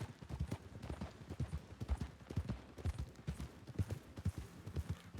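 Horse hooves clip-clop rhythmically as a rider travels in the RedM video game, a steady, evenly paced trot of hollow thuds continuing throughout with no speech.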